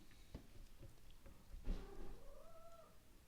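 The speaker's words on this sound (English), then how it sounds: "Don't know why she's meowing." A female cat meows indoors, a few short calls followed by a longer drawn-out rising and falling meow, close and moderately loud with no talk over it.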